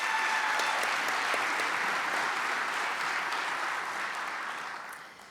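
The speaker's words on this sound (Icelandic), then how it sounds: "Við gefa þér klapp" An audience at a school graduation ceremony in a concert hall applauds the new graduates, a full, sustained wash of clapping that holds steady and then fades out at the end.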